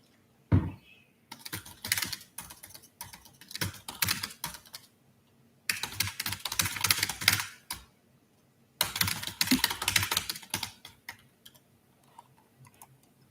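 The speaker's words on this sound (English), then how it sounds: "The sound of my keyboard is probably giving all of you like a brain illness" Rapid clicking of a computer keyboard in bursts of typing separated by short pauses, close and crisp, with no voices.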